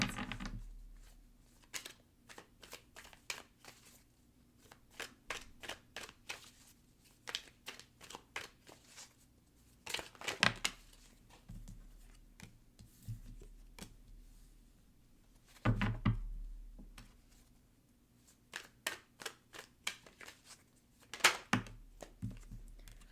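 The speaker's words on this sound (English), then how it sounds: "if you like hearing the cards shuffle" Tarot cards being shuffled close up, quick flurries of papery riffles and taps in repeated bursts with pauses between, fairly quiet and no voices.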